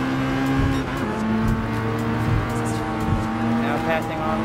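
Race cars in Gran Turismo Sport, including a Honda NSX and McLaren 650S, roar steadily as one overtakes another, engine tones shifting with gear changes and a brief tire squeal, with commentary running over the top throughout.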